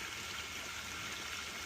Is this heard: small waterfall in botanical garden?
yes